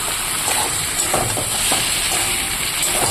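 Meat and potatoes frying in a pan in a home kitchen, giving a steady close sizzle and hiss with faint stirring scrapes and no voices.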